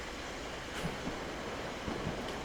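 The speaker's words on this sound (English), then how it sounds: "I think the train's slowing down." Railway video game train, a TCDD Class 45151 on the Penwyth Valley line, slowing down: a steady broadband rumble of wheels and running gear with faint intermittent clanks, no speech.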